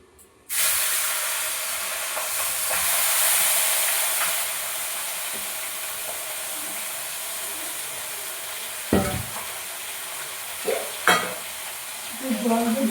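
Meat sizzles loudly in hot oil in a pan, a steady broadband frying hiss running throughout, with a few brief clatters and scrapes of stirring near the end.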